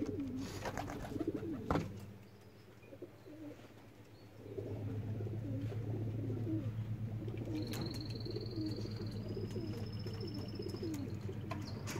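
Racing pigeons coo in a low, steady chorus that repeats throughout, close and continuous, with a few faint higher chirps and one brief thump partway through.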